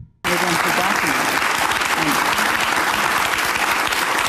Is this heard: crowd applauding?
yes